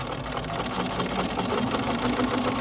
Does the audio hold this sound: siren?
no